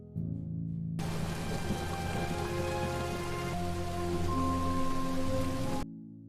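Heavy rain pours steadily onto surfaces, a loud dense hiss that runs unbroken for several seconds with a faint low rumble beneath.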